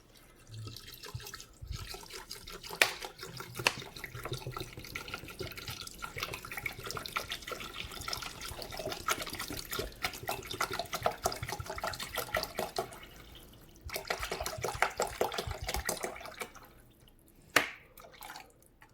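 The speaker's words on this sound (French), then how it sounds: "je vais venir, en fait, remplir de l'eau jusqu'à où il y a écrit... le max, voilà, jusqu'à le max de Thermomix" Water runs from a tap and pours into a Thermomix bowl, filling it to the max mark, a continuous splashing stream with dripping, a brief pause near the end, then a final pour.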